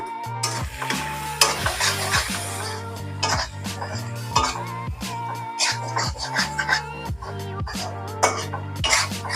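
Cashew chicken curry sizzles in a pan while a spoon stirs it in steady scraping strokes, with close, loud sizzling throughout and no one speaking.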